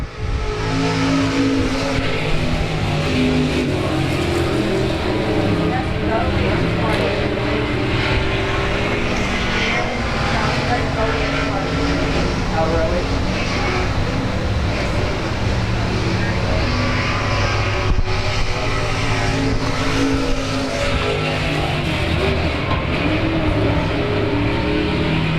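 Race cars roar around South Texas Speedway, a loud, continuous engine drone with rising and falling pitch as cars pass, while a commentator talks over the noise throughout.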